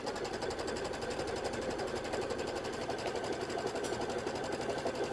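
Embroidery sewing machine stitching lime green thread, a rapid continuous mechanical whir and clatter at steady pace, close and even, no talk.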